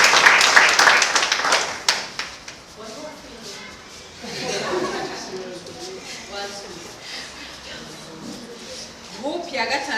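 An audience claps at a casting call, a dense burst of applause at the start that fades out quickly, followed by a voice speaking over scattered background noise.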